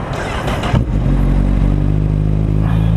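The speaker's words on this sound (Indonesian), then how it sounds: "Ya, mesin normal sudah nyala." A 2012 Honda CBR 1000RR 20th Anniversary motorcycle engine idling close by, a steady low rumble with a brief clattering rev near the start, then settling into an even running drone.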